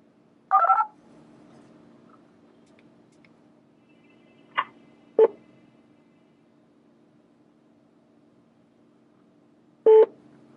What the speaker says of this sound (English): But Blue&Me dialed the number perfectly fine.